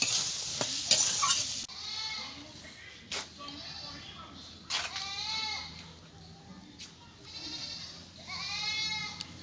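Vegetables sizzle and are stirred in a pan while cooking for a flattened-rice (chira) pulao, with a steady frying hiss, intermittent scraping bursts and a few tonal, voice-like sounds over it.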